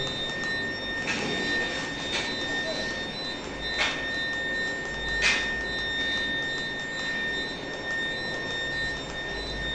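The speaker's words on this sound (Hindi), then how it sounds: "एसी की फ़िलहाल पावर ऑन कर दी गई है।" A Haier 1-ton turbo cool split air conditioner runs on cool mode, giving a steady, fairly loud whooshing hum of airflow with a few faint knocks and clicks over it.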